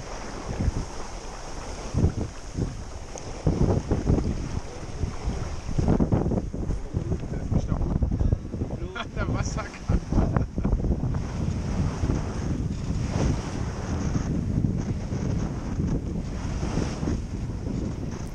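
Strong wind buffets the microphone in gusty rushes, mixed with splashing water and the creak of a 40-year-old sailboat under sail during a Baltic Sea regatta.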